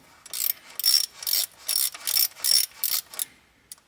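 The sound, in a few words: 7mm ratchet working a bolt on a Mercedes ML350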